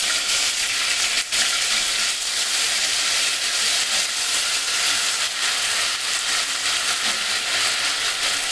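Onion, ginger and garlic paste frying in hot oil over low flame, a loud continuous sizzle with crackling spatters and hiss that runs steadily without a break, close up and alone.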